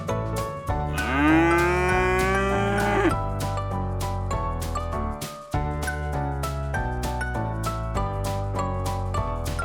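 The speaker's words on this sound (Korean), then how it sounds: "cow" A dairy cow moos in a long, loud, drawn-out call over a steady musical background, followed by continuing music.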